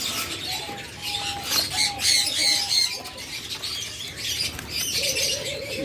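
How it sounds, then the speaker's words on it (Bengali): Caged birds for sale, including laying king quail and pigeons, chirp and tweet in overlapping short calls while wings flap and rustle nearby, a busy, fairly loud mix with no talking. "সব রানিং ডিম বাচ্চা করা কোয়েল পাখি কিং কোয়েল"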